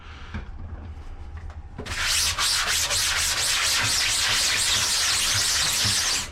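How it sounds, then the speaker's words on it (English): A printing screen coated with screen filler is scrubbed with a brush, first a quieter rubbing then a loud, steady scrubbing with quick back-and-forth strokes that runs until the end. "Give that a quick scrub."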